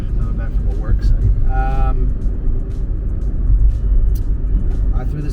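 An old car driving along, steady low engine and road rumble heard from inside the cabin, fairly loud and continuous, with a brief tonal whine partway through.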